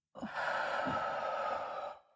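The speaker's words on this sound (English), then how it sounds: "let it go all the way down to the bottom of your belly and breathe out" One long, deep exhalation during a guided relaxation breathing exercise, a close and steady breathy rush lasting about two seconds before fading.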